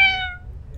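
Single short cat meow in the video game 1954 Alcatraz, a clear, close, high-pitched cry that fades quickly over a faint low background hum.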